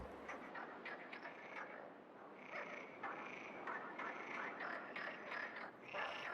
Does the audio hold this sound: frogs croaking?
yes